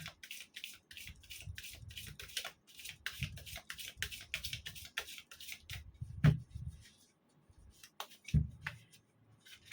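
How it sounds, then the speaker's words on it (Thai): Tarot cards are shuffled by hand with soft, quick, irregular riffles and taps. The sound is close and quiet, coming in short bursts with a couple of sharper knocks. "อาจารย์ก็จะสับไพ่เพื่อเปิด ดวงคุณอีกครั้งหนึ่งค่ะ"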